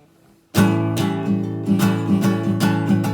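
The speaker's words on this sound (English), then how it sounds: "that is a 7th bar chord that you can also play" A 7th barre chord strummed on guitar after a short quiet lead-in: bright, full strums repeat in a loose rhythm of about eight strokes, each ringing into the next, close and loud with no voice.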